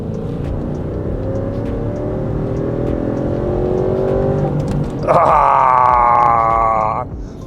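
A Porsche sports car engine in sport mode holds a steady droning rev, then jumps to a higher, louder pitch around 4,000 rpm and stays there for a couple of seconds before dropping off.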